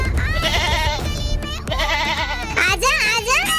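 A pet goat bleats in quavering cries close by, mixed in with children's voices talking and calling over it.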